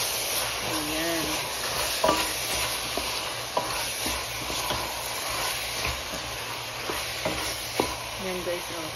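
Okra with onions and chili powder frying in a pan, a steady sizzle with repeated stirring scrapes and clinks throughout, alone without talk.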